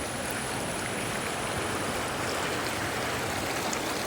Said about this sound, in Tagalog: yung ilog ang ganda o oh